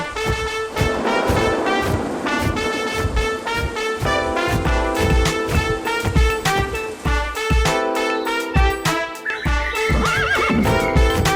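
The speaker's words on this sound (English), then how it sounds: "Suddenly, a white unicorn horse comes flying to save Brownie" A white unicorn horse in a cartoon gives a series of loud, shrill whinnies and neighs, repeated several times in quick succession over a busy, dense backdrop.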